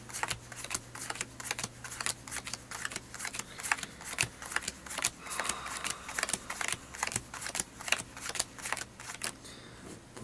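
Playing cards being shuffled and cut by hand during a card trick, a quick run of crisp riffling flutters and soft snaps repeating steadily at close range, with a faint low hum beneath.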